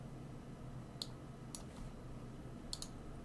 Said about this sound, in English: So I'm going to go ahead into that folder and click download folder.